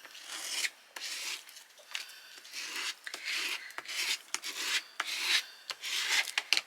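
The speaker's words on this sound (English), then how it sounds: "give it a good old burnish with a squeegee" A squeegee burnishes vinyl in a Cricut craft project, giving repeated close scraping and rubbing strokes in uneven bursts with short pauses between them.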